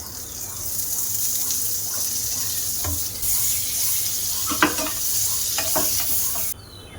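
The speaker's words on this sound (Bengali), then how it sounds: "প্রথমে আমি একটু উনানে ফ্রাইং প্যান দিয়ে দিলাম। আমি ওর মধ্যে একটু বাটার দিয়ে দেব।" Butter heating in a frying pan on a stove before parathas go in, giving a continuous soft sizzle with a few clinks and scrapes partway through and a sudden drop in sound near the end.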